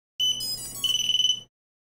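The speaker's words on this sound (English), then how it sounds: "I've got a little 2-LED strip with an integrated buzzer in the back there" A small integrated buzzer on a 2-LED strip fitted to a 2-inch micro racing drone beeps up close: a shrill, steady tone, then a quick run of rapid pulsed beeps before it cuts off.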